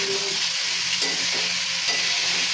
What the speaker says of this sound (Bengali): আর আমার এইদিকে আজকে হচ্ছে গাছ পাঠা রান্না করছি।